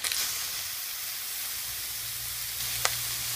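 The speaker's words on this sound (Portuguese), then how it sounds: "Agora nós estamos terminando de fritar o nosso último hambúrguer" A homemade hamburger patty fries in a pan with a continuous close sizzle over a low steady hum, and a brief click near the end.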